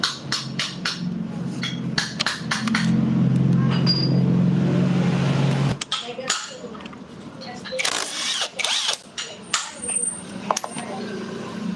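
A crown nut being loosened during a repair, with a steady mechanical whir for several seconds, then sharp metallic clinks and tool knocks close by, with people talking in the background.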